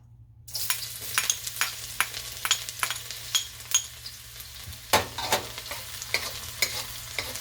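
Garlic frying in a pan for pineapple fried rice: a sizzle starts suddenly and keeps crackling, with regular spatula scrapes and stirring clacks, close up and without talking.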